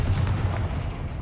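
A Confringo blasting spell is cast in the Hogwarts Legacy video game. It is a single loud, booming burst that rolls off and decays over about a second.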